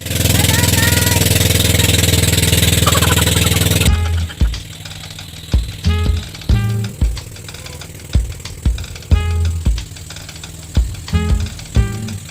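A boat engine runs loud and steady for about four seconds on a ride to a beach in Nasugbu, Batangas, Philippines, then the clip turns to a series of sharp knocks and thumps.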